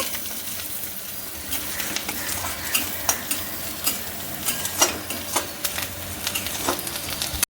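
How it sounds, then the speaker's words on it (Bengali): Cloves, cardamom and cumin seeds frying in hot oil in a pan for mutton curry, with a constant close sizzle and a quick series of scraping, clinking stirs. "আর নিয়েছি দুটো লবঙ্গ আর নিয়েছি একটা এলাচ আর দিয়ে দিচ্ছি সাদা জিরে কটা এবার আমি ভালো করে নেড়ে নেব সবগুলোকে"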